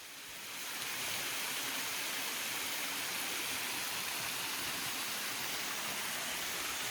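Waterfall on a section of Sipsey Wilderness Trail 209, a steady, loud broadband rush of falling water that fades in over the first second and then holds constant, close by and with no voices.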